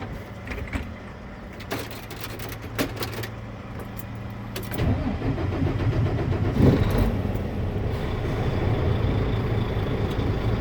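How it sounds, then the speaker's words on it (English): A truck engine in a cab cranks and catches around the midpoint, then settles into a steady close rumble after a quiet stretch with a low hum and some clicks. "I'll push my clutch in, start the engine, and slowly release my clutch."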